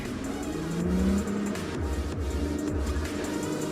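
Car engine revving and accelerating while driving in Cyberpunk 2077, with a low rising-and-falling engine note repeating in surges over steady road rumble, close and moderately loud, no talk.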